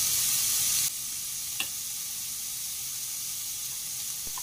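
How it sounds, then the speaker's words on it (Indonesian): Crab meat stir-fried with garlic and shallots sizzles steadily in a pan, with a brief utensil tap near the start and a soft click near the end. "Terus langsung tumis kepitingnya."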